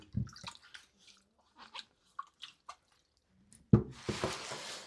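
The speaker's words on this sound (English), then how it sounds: "I'm just going to give the roots a real quick rinse." Garden roots rinsed under running water: a few soft splashes and drips, then a steady rushing gush of tap water near the end, close and moderately loud.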